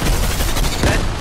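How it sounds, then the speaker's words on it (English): Gunfire and a grenade blast in a Fortnite zero build match, a loud, dense wash of rapid shots with a heavier burst near the end, very close and saturated. "My grenade."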